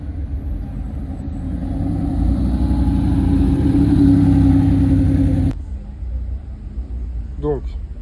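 A Porsche pulling up on a street in Saint-Tropez: a steady close engine rumble that swells slightly, then cuts off sharply partway through, leaving quieter background noise with a brief high chirp near the end.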